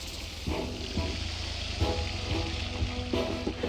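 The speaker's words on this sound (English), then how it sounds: "It's raining like hell." Relentless heavy rain on the road toward the Tanzania–Malawi border, a dense steady hiss of downpour with occasional louder thuds and splashes standing out against it.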